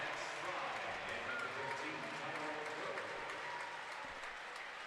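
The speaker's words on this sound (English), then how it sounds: "the Central Catholic fans here will give those two seniors a rousing applause" Steady, sustained applause from the crowd at a high school regional basketball game honoring two seniors, a dense wash of clapping that stays level throughout, with faint voices mixed in.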